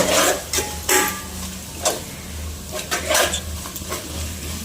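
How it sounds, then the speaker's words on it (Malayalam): Chicken masala being stirred in a pot for biryani: repeated scraping and clinking strokes of a spoon against the pan at an uneven rhythm, close and moderately loud, with a faint low sizzle underneath. "നല്ലോണം കൊണ്ട് ഇളക്കി കൊടുക്കുക."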